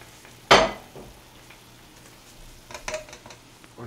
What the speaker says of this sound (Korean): 아, 이거 자꾸 끓는 거는 옮겨놔야겠다.